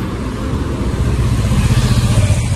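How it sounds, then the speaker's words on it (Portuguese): A car passes close by on a road. Its engine rumbles and builds in a steady pulsing drone, loud and near, with no voices over it. "O carro aí, hein?"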